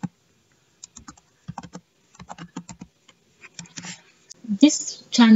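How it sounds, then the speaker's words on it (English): Typing on a computer keyboard, a run of quick, close, crisp key clicks in uneven bursts, with a voice speaking over the later part. "so type movie recap."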